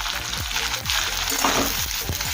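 Capsicum, onion and slit green chillies fry in a pan with ginger and garlic, making a loud, steady sizzle broken by scraping stirs and soft knocks.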